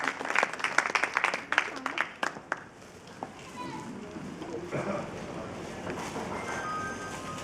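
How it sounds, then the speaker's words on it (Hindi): A crowd claps for an honoured guest at a gathering at an old age home in Sector 28, Faridabad. There are a couple of seconds of close, scattered clapping, then it fades into murmuring and room noise. "आप जोरदार तालियां ऐसे शख्स के लिए, जोरदार तालियों से"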